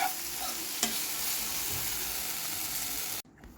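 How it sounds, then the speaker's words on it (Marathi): Onion and tomato sizzle loudly in a hot pan, a dense steady frying hiss with a brief scrape of stirring, cutting off abruptly near the end, no voices. "इथे कांदा टोमॅटो भाजतो आहे"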